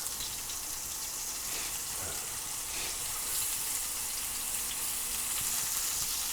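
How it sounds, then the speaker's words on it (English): Sliced onion sautés in a crock-pot, giving a soft, steady sizzle and hiss that continues evenly throughout without any speech. "I'm going to saute these up a little bit until they get just a little bit soft"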